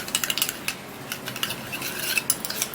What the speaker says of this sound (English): So now I would have to be stirring it up